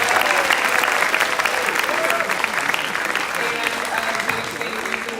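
Applause for students at a school assembly, a dense crowd clapping steadily and loudly throughout, with faint voices mixed into the clatter.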